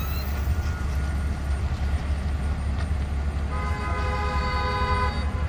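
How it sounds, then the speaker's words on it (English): A vehicle horn at a SpaceX site, sounding once in the second half, a bright steady honk rising over a constant low rumble of vehicle and background noise. "Oh, honk the horn, let them know they're here."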